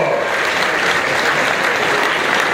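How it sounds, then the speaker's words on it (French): A ceremony audience at an institute's fifth anniversary event claps loudly and densely, a continuous wash of applause with no voices. "Applaudissez très fort."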